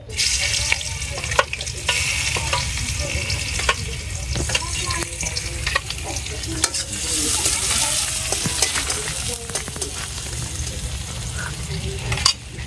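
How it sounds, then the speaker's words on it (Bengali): Chopped onion sizzling in hot oil for a fish curry, a steady broadband fry with scattered clinks and scrapes of stirring throughout, fairly close and continuous. "গরম হয়ে গেছে, পেঁয়াজ কুচি দিয়ে দিলাম"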